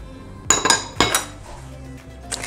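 A spoon clinks and scrapes against a bowl while sugar, cinnamon and cardamom are mixed for soft apple cakes, with a few sharp taps close by and quieter scraping after.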